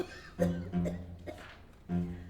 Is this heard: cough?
yes